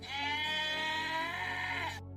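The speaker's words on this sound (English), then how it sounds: "That's my goat." A goat bleats in one long, loud, sustained wavering cry lasting about two seconds, heard alone and close by before cutting off abruptly.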